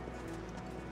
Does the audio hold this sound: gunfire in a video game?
no